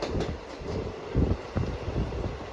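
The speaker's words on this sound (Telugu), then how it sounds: "మన ట్రైన్ అయితే మొత్తం ఫుల్ కరువు తీసుకుంది" A passenger train between Secunderabad and Khammam rumbles along the tracks with low, steady rolling noise and wind buffeting the microphone, with occasional heavier thumps.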